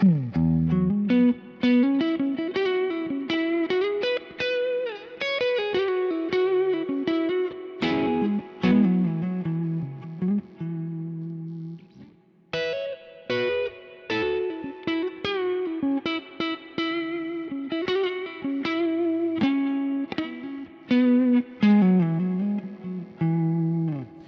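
An electric guitar plays through a Kemper profiler's large spring reverb, a continuous run of plucked notes and chords with a long splashy tail, loud and alone without voices.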